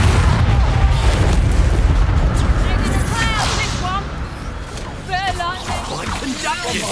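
The Bombarda blasting spell in Hogwarts Legacy lands as a heavy, rumbling boom that fills the opening seconds. Magical crackles and effects follow, and voices speak over the fading noise.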